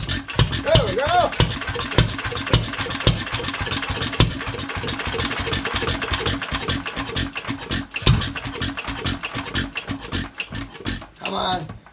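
An antique IHC Titan Junior hit-and-miss farm engine runs with a steady rapid chuffing beat, close and loud, while people talk over it.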